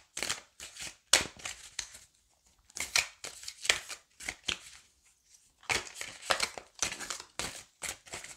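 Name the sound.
shuffling and cutting oracle cards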